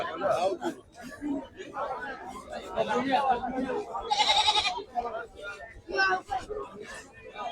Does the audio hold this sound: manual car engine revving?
no